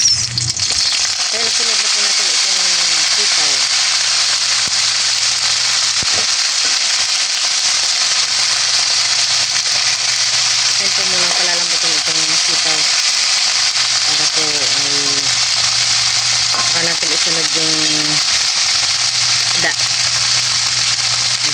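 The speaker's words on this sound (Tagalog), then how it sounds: "gisa ko na po itong ating bawang at sibuyas" Garlic and onions sautéing in a pan for adobong sitaw with fish: a loud, constant sizzling hiss fills the whole stretch, with a voice talking intermittently over it.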